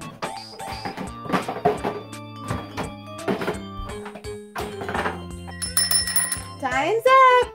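Hand bell rung to start a children's pretend-play supermarket sweep with a Melissa & Doug toy grocery store, bright ringing heard near the end after a run of toy knocks and clatter, with talking over much of it.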